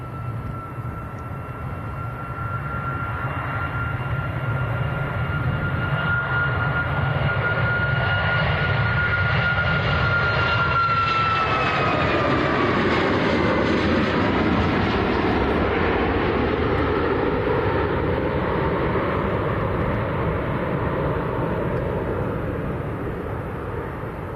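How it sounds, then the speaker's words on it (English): A Ryanair Boeing 737 Max jet bound for Rome roars loudly and steadily at Manchester Airport, its engine whine shifting in pitch midway as it passes close by, with no voices over it. "this is Ryanair to Rome, and this is a Max."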